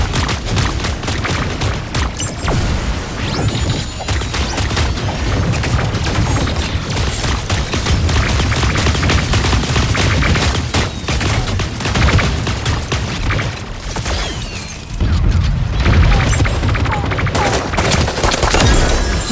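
Nearly continuous heavy gunfire and explosions in the mecha battle game Super Mecha Champions, a dense, loud barrage of rapid shots and booms with only a brief lull near the end.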